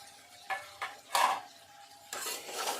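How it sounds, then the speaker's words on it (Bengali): Tomatoes are mixed in a pan with salt, turmeric and cumin-coriander powder. A spoon gives a few soft scrapes and clinks against the metal, with brief pauses between strokes and a faint sizzle beneath. "দিয়ে আবারও ভালো করে মিশিয়ে নেব।"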